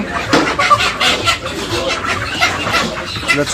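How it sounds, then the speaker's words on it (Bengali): Chickens cluck and squawk at a village market stall selling Pakistani breed hens, short, irregular calls close by amid background bustle. "পাকিস্তানি মুরগি"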